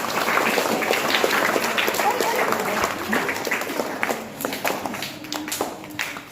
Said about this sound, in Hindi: इन बीच में एक शानदार तालियों का अभिनंदन दिया जाए